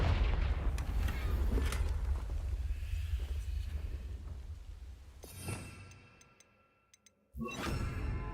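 A Confringo spell explosion from the video game Hogwarts Legacy erupts as a loud, low rumbling blast amid dense game noise, then fades to near silence before another burst of sound returns.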